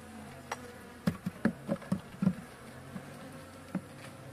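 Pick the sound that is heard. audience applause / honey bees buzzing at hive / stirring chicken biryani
honey bees buzzing at hive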